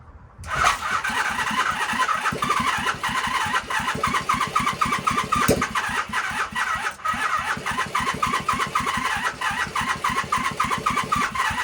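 A 1978 Honda CB400A Hondamatic motorcycle engine cranks over and over in a fast, steady chugging rhythm without catching, loud and close, with a brief sputter partway through.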